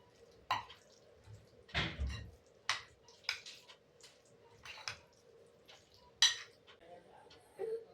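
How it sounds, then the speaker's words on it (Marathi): Coriander stirred into smoky eggplant bharta in an iron kadhai, a string of soft wet squelches and metallic scrapes of a spoon against the pan, fairly close and moderately quiet, with a faint steady hum beneath. "त्यामध्ये टाकूया 1 वाटी कोथिंबीर आणि छान मिक्स करून घ्यायचं"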